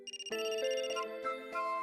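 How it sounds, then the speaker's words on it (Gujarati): A telephone ringtone plays at home, a bright electronic melody of sustained tones starting after a brief stuttered lead-in and continuing clearly for nearly two seconds, alone. "બાના ઘરેથી ફોન?"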